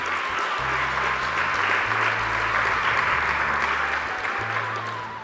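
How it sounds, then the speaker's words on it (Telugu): A church congregation at a birthday gathering claps in praise, a thick steady roar of hands that stays loud throughout and fades slightly at the end, with low sustained musical tones beneath. "చప్పట్లు కొట్టి దేవుని స్తుతించు"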